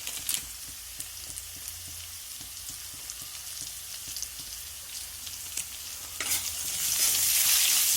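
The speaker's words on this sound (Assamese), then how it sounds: "লৰাম ভালদৰে লৰাই" Chicken curry with salt and turmeric frying in a pan, its steady sizzle punctuated by light rhythmic ticks of a spoon stirring, then swelling into a louder, hissing burst of sizzle toward the end, close and without speech.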